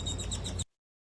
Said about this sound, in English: that bird sounds like it's in his freaking car with him